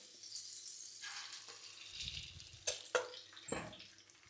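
Eggs hit a preheated frying pan with a little oil and butter, giving a soft hiss and sizzle with a few sharp crackles and pops, fairly quiet and close.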